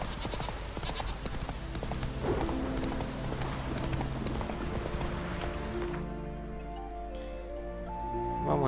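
Roach, a horse in The Witcher 3 video game, trots with a steady clip-clop of hoofbeats over game ambience and music, fairly close and unbroken, with no talk.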